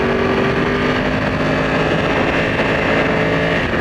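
A Yamaha R1 sport motorcycle on a demo ride out of a Falls Church, Virginia dealership gives a steady, loud engine drone throughout, with wind rushing over the microphone and no talking.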